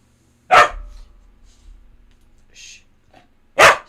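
A dog gives two sharp, loud barks spaced about three seconds apart, with quieter snuffling and movement in between.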